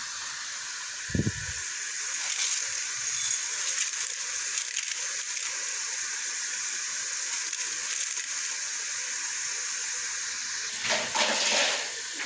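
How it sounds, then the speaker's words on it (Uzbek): Rice poured into hot oil in a pan with fried potatoes, a brief thump as it drops in, then a steady bright sizzle and hiss that continues evenly and swells slightly near the end. "Endi guruchlar solamiz hammasini"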